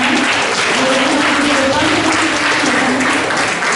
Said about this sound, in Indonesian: tepuk tangannya untuk dua pertanyaan